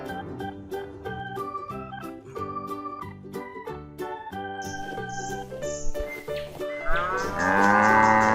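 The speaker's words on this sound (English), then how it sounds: "cow." A toy cow gives a synthetic, musical lowing over a steady plinking jingle, with the moo swelling louder and sustained toward the end; no one speaks.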